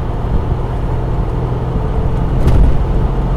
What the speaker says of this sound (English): So I'm in fourth doing 40 miles an hour, put my foot down, it's very smooth, it picks up nicely